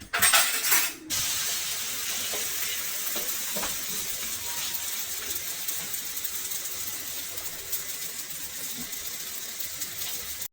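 Malawah flatbread fries in a pan over a high flame with a steady, close sizzling hiss, after a brief clatter at the start and with no talking.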